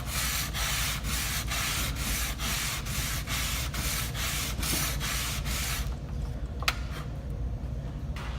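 A plane iron being sharpened on a finer-grit stone, rhythmic back-and-forth scraping strokes about twice per second, close and steady, ending in quieter handling with a single click.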